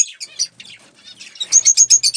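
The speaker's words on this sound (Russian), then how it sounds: "Вот птица такая сидит." Budgerigar chirping outdoors in cold, wet weather, a run of bright, rapid tweets in short bursts, growing louder and more regular toward the end, with no talk.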